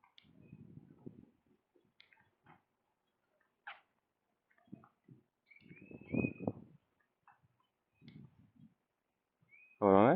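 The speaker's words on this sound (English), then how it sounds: "That's a real bird." A bird calling outdoors during a walk, a few short scattered chirps and one louder trill near the end, spaced between soft footsteps and rustling.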